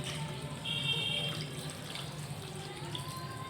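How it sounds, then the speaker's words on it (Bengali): Water streams steadily into a pot of cooking masoor lentils with banana flower. The flow is soft and continuous with a faint trickling splash, a little louder for a moment near the start. "আমি এখন জল ঢেলে দিচ্ছি, দেখেন"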